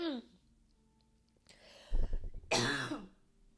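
A woman clears her throat in a short, harsh burst and follows with a second rougher cough-like rasp, close and alone in an otherwise quiet room.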